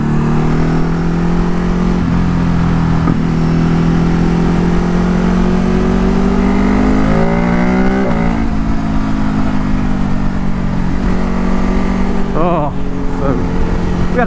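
An Aston Martin car revving and accelerating along a back road, its engine note climbing steadily in pitch, loud and continuous, with wind rush and someone talking over it.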